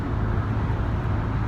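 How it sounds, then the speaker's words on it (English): Car passing on a road with cement trucks nearby, a steady, fairly loud low rumble of traffic throughout with no distinct approach or fade. "There goes another car. It's gonna pass me on the left."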